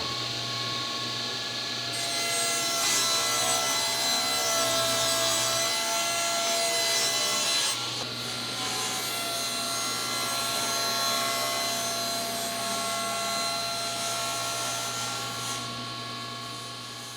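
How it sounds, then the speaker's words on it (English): A table saw with a crosscut track runs loud and close as it cuts a wooden panel in half, a steady whine with the blade biting through the wood, continuous for the whole stretch, with no talking. "I'm going to use my crosscut track on my table saw here."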